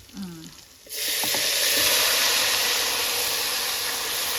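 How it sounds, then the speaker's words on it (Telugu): After a brief quiet moment with a small clink, a loud burst of hissing sizzle erupts as tempering spices hit hot oil and continues steadily, close up, with no talking. "పోపులు వేసి మంచిగా మగ్గియాలి."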